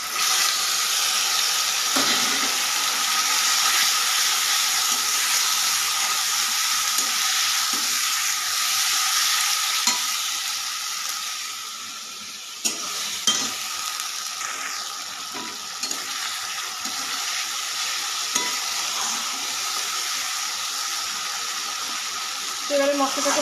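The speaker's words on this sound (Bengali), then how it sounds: "এবারে মশলাটাকে ভালো করে কষিয়ে নেব।" Spice paste with salt and turmeric frying over fried onions in a pan, a continuous soft sizzle with scattered scraping stirs and clinks, close by, with no one speaking.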